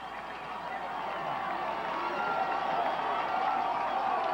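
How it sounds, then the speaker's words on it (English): A crowd at a 1990 high school football game between Water Valley and Stone County roars steadily and swells slightly as the home side takes the lead, a dense wash of cheering that fills the whole clip. "Listen to this crowd."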